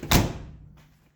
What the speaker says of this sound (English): Doors open and close like they should.